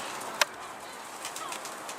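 A pigeon near a coop gives a single short burst of wing flaps, followed by faint soft sounds in an otherwise quiet outdoor setting.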